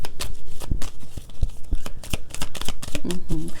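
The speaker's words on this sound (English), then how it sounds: "Who comes on here for shuffle ASMR?" Tarot cards being shuffled by hand at close range, a run of crisp riffling and slapping bursts with short pauses between them, while faint tonal sounds sit low in the background.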